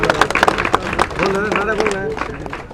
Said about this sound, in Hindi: एक बार जोरदार तालियां बजाइएगा भूप जी के लिए।